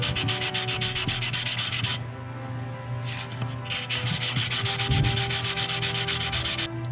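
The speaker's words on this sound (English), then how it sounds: "And then I'll just lightly sand the top real quick." Light sandpaper rubbing on a tabletop gaming sidewalk terrain piece makes rapid rhythmic scratchy strokes, close and steady, with a brief softer pause partway through before the quick back-and-forth resumes.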